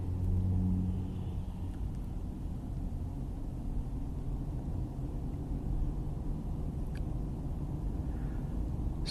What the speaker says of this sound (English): I'm letting a car get past me here.